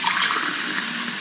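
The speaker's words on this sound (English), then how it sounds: "Can you put some water in the cup?" Water pours steadily into a cup in a single continuous, bright splashing stream, loud and close throughout, with no voices.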